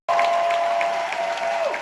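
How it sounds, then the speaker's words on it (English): An audience at a live comedy tour show in Orlando gives a standing ovation, with dense, loud clapping and a crowd roar that start abruptly and hold steady throughout. "I love the standing O."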